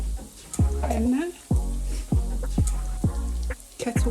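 Beef browning in a pot for Jamaican beef patties, a steady loud sizzle with repeated stirring scrapes and clatter throughout, close up.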